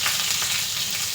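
Onion sizzling in hot tempering oil while cooking broken-wheat semiya upma: a steady, close, loud frying hiss with crackle that holds for the whole clip and has no talk over it.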